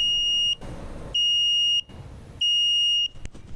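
A motorcycle turn signal buzzer sounds up close in a workshop, three evenly spaced beeping pulses with short gaps between them, fairly quiet with no talking.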